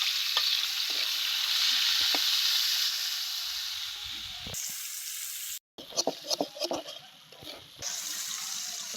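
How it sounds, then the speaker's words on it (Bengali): Fish fries in hot oil in a kadai with a dense, even sizzle that fades after about five seconds, followed by quieter bubbling, clinks and stirring noises. "তেল গরম হয়ে গেছে, মাছ দিয়ে দেবো।"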